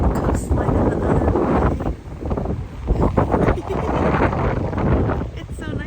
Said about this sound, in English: The wind actually feels good right now